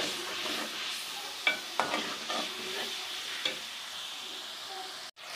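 Spice paste frying with yogurt in ghee sizzles steadily while a spoon stirs it, with several distinct scrapes and taps against the pan, heard close and alone.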